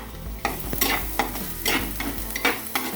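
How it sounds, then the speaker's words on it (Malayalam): Shallots frying in a pan are stirred with a utensil, giving several scraping strokes over a steady crackling sizzle, close and moderately loud, with no talk. "ചെറിയുള്ളി നമ്മൾ ശരിക്കും ഇളക്കണം."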